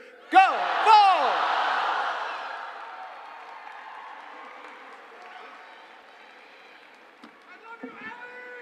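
A large graduation crowd at a spring 2024 university commencement shouts "Go Vols" in unison in a loud sudden burst, then cheering and clapping swell and slowly fade into a reverberant hall murmur.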